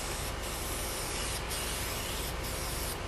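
Latex house paint sprays from a sprayer onto a homemade skimboard, a continuous dense hiss close by with faint periodic pulses, no talking.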